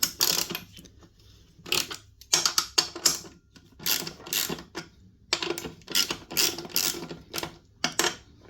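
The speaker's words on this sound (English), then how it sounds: "a 13mm socket ratchet is all you really need" A 13mm socket ratchet clicks in uneven bursts of rapid pawl ticks while adjusting a Makita saw, close and crisp, with short quiet gaps between strokes.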